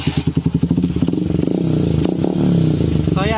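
A motorcycle engine revs while its battery is being charged, starting with a lumpy, pulsing idle that rises into a steady, louder rev close by, with a few clattering bumps.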